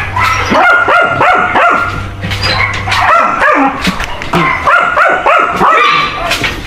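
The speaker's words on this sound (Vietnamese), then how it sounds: "thả đàn cún này ra cho chúng vận động, giao lưu" Puppies at a dog breeding farm bark and yip repeatedly in close, overlapping bursts, with a steady low hum running under the first half.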